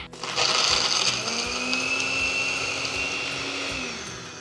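A blender whirs loudly and steadily, close by, grinding soaked dried figs with a spoonful of sugar, its motor pitch holding through the run and easing slightly toward the end.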